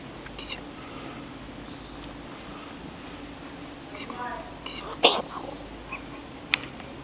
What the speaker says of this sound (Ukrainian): Что такое? Кто чихает?